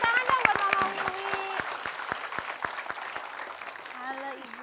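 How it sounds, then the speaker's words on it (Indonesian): Enthusiastic applause and sharp claps fill the room, steady and close, with a voice speaking over it at the start and near the end. "tepuk tangan dong buat Mama Wiwi."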